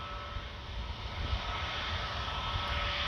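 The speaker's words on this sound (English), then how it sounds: "That's a Vueling Airbus A320." A Vueling Airbus A320 jet at Orly airport gives a steady, loud engine roar with broadband rumble that swells slightly over a few seconds.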